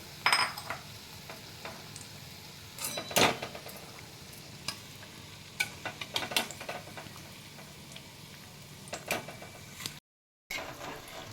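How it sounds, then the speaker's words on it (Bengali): Fish chops fry slowly in oil over low-medium heat with a soft, faint sizzle, broken by scattered clicks and scrapes of utensils and a few louder knocks. "আস্তে লো টু মিডিয়াম আছে আস্তে আস্তে আমি এগুলোকে ভাজবো।"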